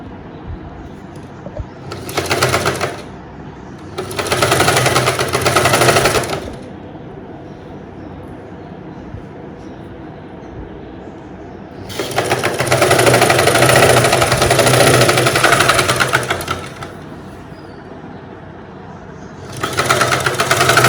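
A sewing machine stitches a lining top in four loud, close bursts of rapid whirring, two short and two longer, separated by quieter pauses.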